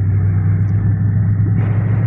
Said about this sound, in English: I wish I was not behind this truck